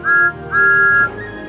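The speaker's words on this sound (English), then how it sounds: "has a whistle that sounds like this" Thomas the Tank Engine's steam whistle, two clear, loud toots, a short one followed by a longer sustained note, sounding alone.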